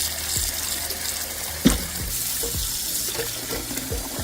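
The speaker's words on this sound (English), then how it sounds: "Pour some water into the bowl along with the vinegar." Water runs from a tap into a bowl holding a cup of vinegar while cow foot is being cleaned, a steady splashing stream at close range, with a few small knocks and clinks over it.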